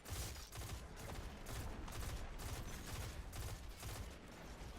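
Sustained enemy gunfire in the Destiny 2 video game, a dense, steady volley of repeated shots with regular bursts running throughout, loud and continuous with no talking.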